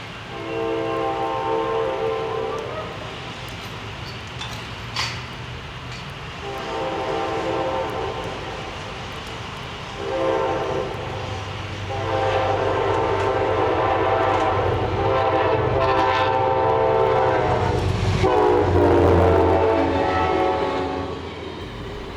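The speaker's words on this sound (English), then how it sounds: "In the village of Fonda, we wait for Amtrak Train 283" Amtrak Empire Service passenger train 283 passes through the village of Fonda, New York, sounding its horn in several long, loud blasts over the rumble and clatter of the cars rolling by.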